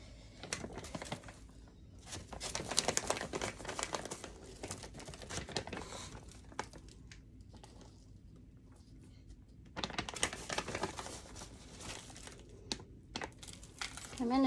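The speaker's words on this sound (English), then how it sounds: "I put a plastic bag down, so hopefully I won't make too big of a mess." A plastic bag crinkling and rustling during Venus flytrap repotting, irregular close crackling bursts that come and go in waves, with brief quiet gaps between handling.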